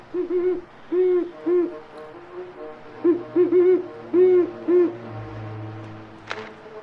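An owl hoots in a scene from the 1981 film Blow Out, giving a rhythmic run of short, clear, low hoots in pairs and triplets over a steady low background hum, with no talk.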